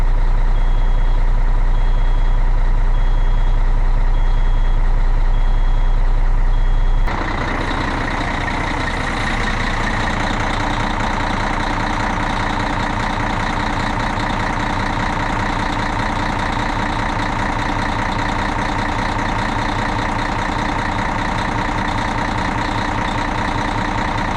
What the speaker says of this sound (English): That fires right up, doesn't miss.